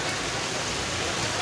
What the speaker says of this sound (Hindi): अभी बारिश लगी हुई है